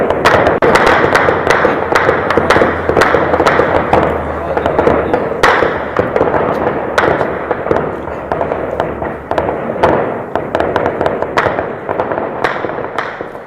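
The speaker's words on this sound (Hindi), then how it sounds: "किस तरह से लगातार आवाजें एनकाउंटर की इस वक्त भी आ रही है" Gunfire during an encounter between security forces and terrorists in Shopian, Jammu and Kashmir: sharp cracks and thumps going off continuously over a dense, noisy background, some shots loud and close.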